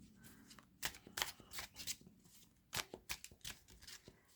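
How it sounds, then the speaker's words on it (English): Tarot cards from the Quiet Rebel Deck are shuffled by hand, giving quiet, close riffling and slapping bursts in an uneven rhythm, with no talking. "let's give these cards a quick shuffle"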